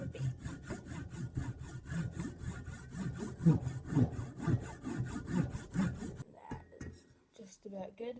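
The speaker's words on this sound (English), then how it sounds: "Grabbing our saw. It's going to have to go, this line is going to go all the way into this very center of the bait." A hacksaw cuts into a wooden antique-style whirligig fishing lure body clamped in a vise, giving steady rhythmic back-and-forth rasping strokes for about six seconds, then it stops and a voice speaks briefly.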